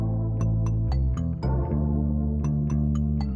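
Tuned glass percussion in a pop production rings out in short bright strikes with reverb, over sustained low bass tones that shift pitch every second or so, with no voices.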